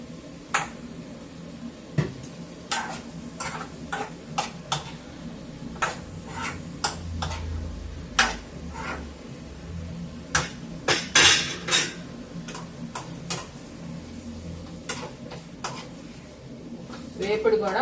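A spoon scrapes and clinks against a metal pot while brinjal chutney is stirred with salt, turmeric and tamarind, giving irregular taps and knocks throughout with a brief soft sizzle, all close and fairly clear.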